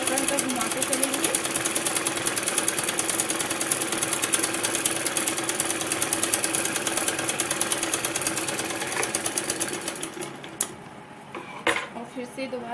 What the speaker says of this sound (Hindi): इस तरीके से मशीन को हल्का हल्का घुमाते चलेंगे।